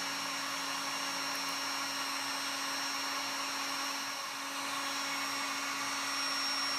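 Paint stripping heat gun blowing very hot air, giving off a steady, even whooshing fan hum with a faint whine that holds constant at moderate level throughout.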